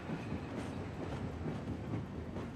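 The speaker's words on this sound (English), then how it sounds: "Alright, we're taking a train for some reason." A train rolling on rails in the video game Afterfall: InSanity, a continuous low rumble with faint clickety-clack, moderately quiet and steady with no voices.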